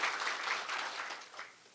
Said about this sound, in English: you guys need to give yourselves a round of applause